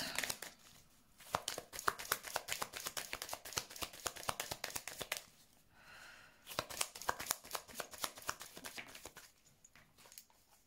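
Oracle cards being shuffled and laid down: soft, rapid papery riffling and flicking, fairly quiet and close, with brief pauses between bursts.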